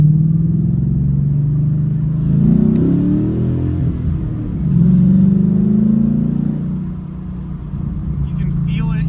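A car engine fitted with a Steeda cold air intake revs up and down several times with a deep, throaty intake roar, loud and close.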